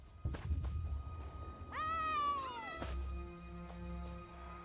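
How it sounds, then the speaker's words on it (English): A cat in the Elder Scrolls Online video game gives one long, drawn-out meow that falls in pitch, clear and fairly close, set amid soft game ambience and a few dull thumps. "Follow that cat!"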